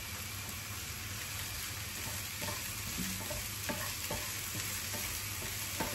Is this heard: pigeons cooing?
no